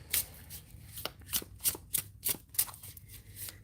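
A deck of playing cards is shuffled repeatedly, giving a series of crisp, close riffling bursts separated by brief pauses, with no talk.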